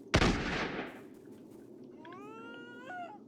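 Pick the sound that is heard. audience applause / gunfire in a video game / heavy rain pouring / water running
gunfire in a video game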